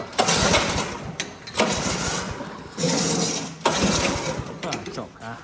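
An S550 Mustang engine started with the electric start, roaring loudly in repeated surges about every second or so with a rough mechanical rattle throughout.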